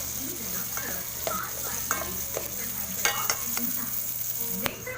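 Onion and garlic sauté in a pan for Filipino chicken tinola, giving a steady close sizzle and frying hiss with light stirring scrapes and clicks scattered throughout.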